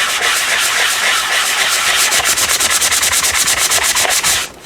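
Coarse sandpaper, rougher than 120 grit, scrubs across paper to distress it, loud close rasping that settles into rapid even back-and-forth strokes before stopping abruptly.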